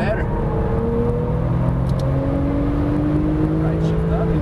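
A Porsche 991 Turbo lapping a race track, its engine droning steadily and close with slowly rising and falling pitch as it accelerates through gears, under constant road and wind roar.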